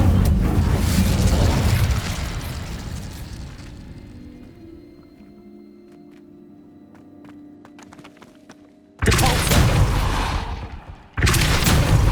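Fire spell cast in Hogwarts Legacy on PlayStation 5, heard as a loud booming burst that fades into a quiet tail before two more heavy blasts erupt, the second cut short.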